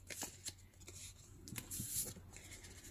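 Scissors snipping through a folded sheet of paper for decoupage ephemera, several quick crisp cuts and rustles at close range, quiet overall with no talking.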